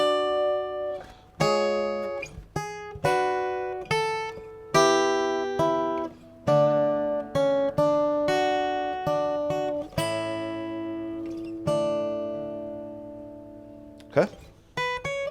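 Acoustic guitar plays a part of a song slowly, with picked notes and strummed chords in an unhurried, even sequence, close and clear, ending in a brief sharper strum.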